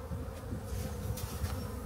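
Steady, dense hum of honey bees inside an opened hive during a winter check, a continuous close drone with slight swells and no talking.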